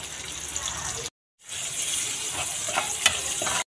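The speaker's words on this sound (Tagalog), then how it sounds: "dito na rin tayo magigisa ng ating sibuyas sa bawang" Chopped garlic and white onion sizzle in hot oil in a pan with a steady broadband hiss, broken by a short silent gap, with occasional stirring scrapes and pops near the end. No voices.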